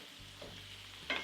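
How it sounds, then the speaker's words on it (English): Garlic butter beef steak bites sizzling in a pan as they are coated in reduced sauce, a brief soft hiss of frying with a sharper scrape of stirring at the end, close by and without speech. "Coat the beef with this delicious sauce."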